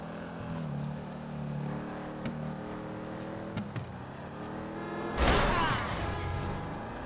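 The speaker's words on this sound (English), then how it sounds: "I have to drive a huge monster truck." A huge monster truck drives in GTA V, its engine droning and shifting pitch steadily under faint ticks before a loud, rough burst of engine noise near the end.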